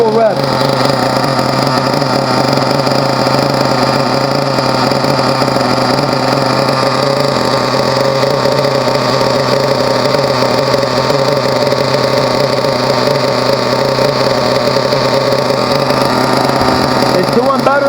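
A small Team Associated RC nitro car engine runs steadily at a high, buzzing idle during break-in, with a constant drone throughout, no clear revving changes.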